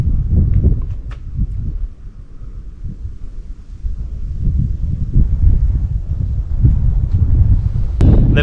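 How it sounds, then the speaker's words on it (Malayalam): Strong wind buffets the microphone on the Kurishumala hilltop at Vagamon, a loud, continuous low roar with gusting surges and a few thumps, with no speech. "കാറ്റുണ്ട് ഒച്ച എത്രത്തോളം ഉണ്ടെന്ന്."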